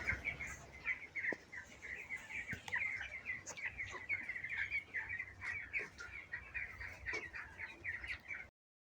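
Broiler chickens on a poultry farm: a dense flock clucking and chirping together in a constant, busy chorus, with scattered nearer calls and occasional knocks over a low background rumble.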